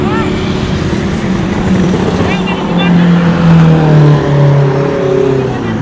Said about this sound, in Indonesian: Barusan ada lewat mobil sport